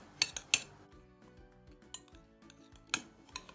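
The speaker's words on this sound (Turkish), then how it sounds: "Öncelikle kaşıkla güzelce karıştıracağız." A spoon stirs semolina and flour in a mixing bowl, giving a few sharp metallic clinks against the bowl amid quieter scraping, irregular and close up with no talk.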